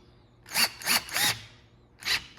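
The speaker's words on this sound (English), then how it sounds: "I'm just gonna tighten this screw up." Cordless power driver tightening a screw on the handle of a Wolf built-in oven: four short whirring bursts, three close together and one after a pause, close and clear.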